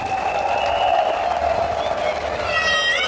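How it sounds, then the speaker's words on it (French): Audience at a political party federation ceremony applauding, steady dense clapping from a crowd with a sustained tone running underneath, continuous and fairly loud throughout. "sous vos applaudissements s'il vous plaît"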